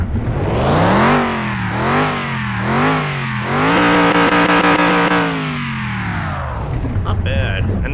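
A 1983 Ford Bronco police SUV engine in Car Mechanic Simulator 2021, loud and close, revving up and down in several rising surges before settling to a steady drone and winding down.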